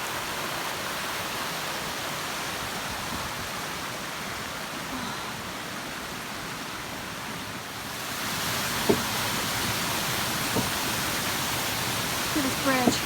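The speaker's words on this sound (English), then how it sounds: "But look at that waterfall." A waterfall on the Appalachian Trail pours in a steady, broad rushing roar, with a few faint knocks and clicks near the end.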